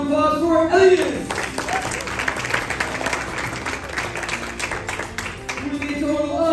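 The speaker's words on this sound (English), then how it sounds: "One more round of applause for Elias!" A crowd at a board-breaking speed challenge gives a contest winner a sustained burst of applause with some cheering, framed by a brief voice and music at the start and end.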